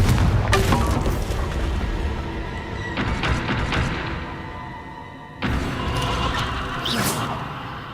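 A Confringo spell blast from the Hogwarts Legacy video game, heard as a loud booming burst with crackling mechanical rumble and thuds, dropping off before a second sharp impact near the end.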